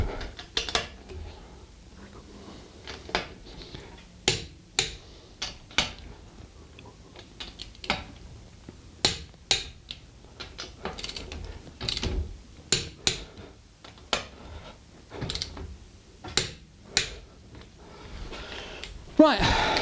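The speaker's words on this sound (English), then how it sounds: "So wheel nuts should always be put on using a torque wrench." A torque wrench tightens car wheel nuts in a series of sharp ratcheting clicks and metallic clunks, coming in irregular bursts over a quiet background.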